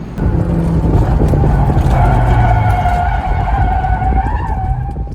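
Loud, sustained tire squeal as a Honda S2000 slides in snap oversteer, with engine roar underneath, continuous for several seconds up close.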